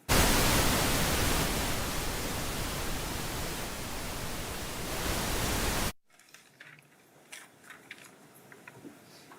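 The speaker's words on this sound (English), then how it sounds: "Put the white noise on, ladies and gentlemen." Loud, steady white noise fills a courtroom for about six seconds, then cuts off abruptly, leaving faint room sounds and scattered soft clicks and rustles.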